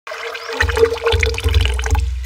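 Dissolved tamarind water for a bhel puri chutney pours into a vessel in a loud, gurgling stream, splashing in several bursts close by with no talking.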